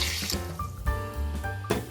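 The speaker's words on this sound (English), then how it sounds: "I'm going to add in my 2 cups of water" Water poured from a cup into the pot of a 6-quart 10-in-1 electric multi cooker holding rinsed white rice, a steady close liquid fill for about two seconds with brief splashy bursts near the start and end.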